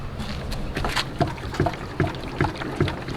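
Water sloshes inside a Honda Civic part as it is shaken by hand, giving a steady run of about eight distinct sloshes, close and fairly loud, with no talking.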